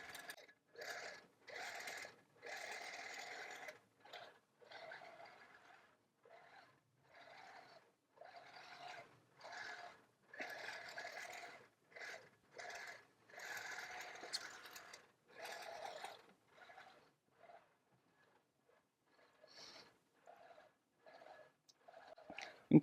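A Pro-Stitcher computerized long-arm quilting machine stitches a row across a quilt, its motor whirring in short, repeated bursts separated by brief pauses, fairly quiet and steady throughout.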